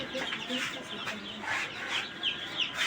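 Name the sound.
newly hatched desi chicks from an incubator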